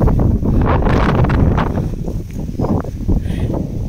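Strong sea wind buffets the microphone with a loud, continuous low roar and gusty surges that carry on throughout, with no one speaking.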